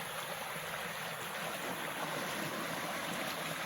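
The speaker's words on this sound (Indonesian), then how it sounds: "di sini melewati jembatan kecil yang di sini airnya begitu bersih" A clear forest stream flows beneath a small bridge, giving a steady, even rush of water that holds without pause, quiet and fairly distant.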